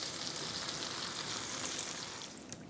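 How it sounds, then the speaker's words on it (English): English muffins toast in olive oil in a skillet, giving a steady, close, soft sizzle with a fine crackling hiss that continues evenly throughout, without talk. "And then we can toast the English muffins that did not fit in the toaster oven. And we'll do that right in the skillet."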